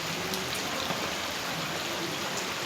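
Heavy rain pours down in a dense, continuous roar, loud and steady throughout, with no other sounds standing out above the downpour.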